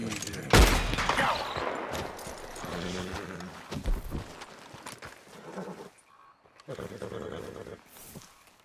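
Gunshots from rabbit hunting in the Red Dead Redemption 2 video game: one loud, sharp shot near the start, then scattered fainter cracks and rustling game ambience over several seconds.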